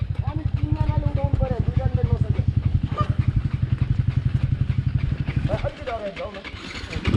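Dirt bike engine on an extreme enduro hill climb at Chandragiri Hill, a Crossfire or Cross X motorcycle: loud, close, rapid chugging putter at steady revs, easing off near the end before picking up again, with voices over it.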